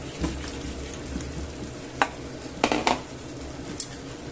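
Potatoes are tipped into a sizzling pan and stirred, with a steady background frying hiss and several sharp clinks of a utensil against the pan.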